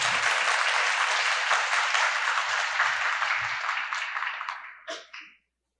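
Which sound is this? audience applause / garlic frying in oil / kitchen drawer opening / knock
audience applause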